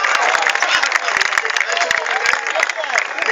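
Audience clapping and cheering at a college kavi sammelan poetry recital, a dense continuous wash of applause from a crowd, steady and fairly loud throughout with many sharp individual claps.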